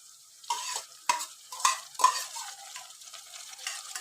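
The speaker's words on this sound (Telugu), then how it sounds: "ఎందుకంటే కీమా ఆయిల్లో మంచిగా మనము ఫ్రై అయితే చేయాలి" Minced meat (keema) frying in oil in a home kitchen, heard as repeated bursts of sizzling as a spoon stirs it every half second or so, close and moderately loud with no talking.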